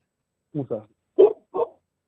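A dog gives four short, close barks, two quick ones followed by two more after a brief pause, in an otherwise quiet room.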